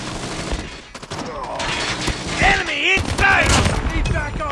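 Rapid AK rifle bursts from a Call of Duty match ring out in close, repeated volleys amid dense game noise, with a voice talking over parts of it.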